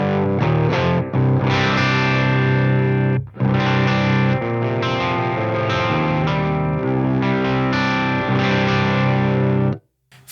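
Electric guitar plays distorted crunch chords through an amplifier set with treble rolled right off and mids boosted, a thick, dark, loud tone with short gaps between strums and a sudden stop near the end.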